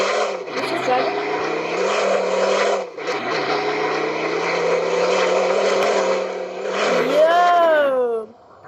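A car engine in the Southwest Florida video game, a steady, loud droning hum that dips briefly, then climbs into a rising, whining rev just before cutting off.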